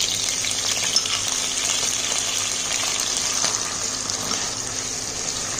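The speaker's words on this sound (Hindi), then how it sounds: "अब इसके बाद मैं इसमें आलू और गाजर फ्राई करूँगी।" Potatoes and carrots frying in a pan for zafrani navratan pulao, a loud, steady close sizzle with faint stirring, constant throughout and without any voices.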